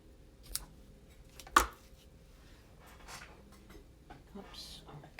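Scissors trimming paper ribbon tails on a handmade pocket card, heard as a sharp snip followed by a few faint cuts and soft paper handling, quiet and close.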